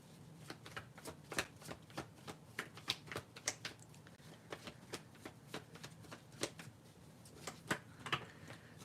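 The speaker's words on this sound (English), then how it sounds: "Just had to shuffle a bit there." Tarot cards are shuffled close by in a quiet room, a rapid run of soft papery riffles and taps repeating irregularly throughout.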